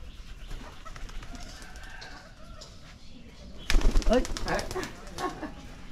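Pigeons kept at a rural house beside a pomelo tree, with a sudden burst of wing flapping and fluttering about midway, close by, among background voices and outdoor ambience.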